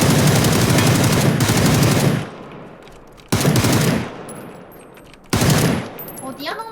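Automatic gunfire in a video game blasts out in three loud rattling bursts, each a dense rapid stream of shots that cuts off sharply, with quieter game noise between them.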